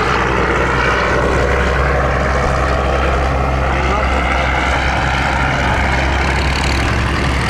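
A barge engine reversing at full throttle, a loud, heavy, continuous droning roar with a deep low rumble, steady throughout with no breaks.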